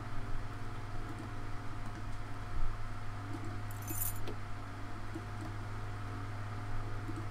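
Car keys jangle inside a vehicle in the horror adventure game Scratches: a light metallic rattle that stays near and modest in level over a steady low hum, with no talking.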